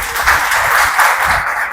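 An audience claps at a school event in Punjab, a dense, fairly loud patter of many hands that swells in small surges and then begins to thin out.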